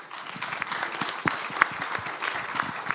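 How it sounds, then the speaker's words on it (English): An audience at a US-Kenya creative ecosystem panel event bursts into applause, a dense, lively clapping that holds for a few seconds and swells slightly. "A big round of applause for our panel"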